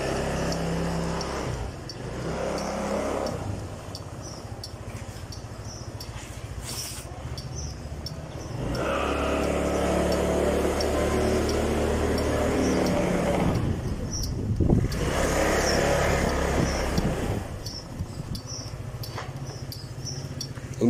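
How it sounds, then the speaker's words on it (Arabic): A Vespa scooter revs up and pulls away, its engine note rising and holding steady at close range, with brief dips between throttle bursts and no talking. "لو عايز نطلع يا جماعه بندوس اكسلتير بس، يعني كده اهو الفيسبا هتطلع معايا"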